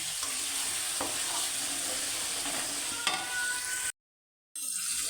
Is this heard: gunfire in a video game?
no